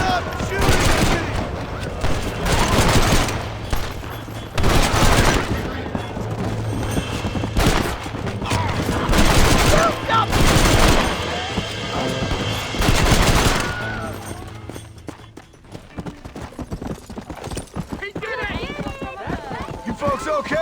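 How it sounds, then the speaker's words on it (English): Repeated gunfire from a Western shootout in the Red Dead Redemption video game, with bursts of shots cracking loudly over several seconds amid game sounds and shouting voices, then fading to quieter ambience near the end. "Stop shooting at me!"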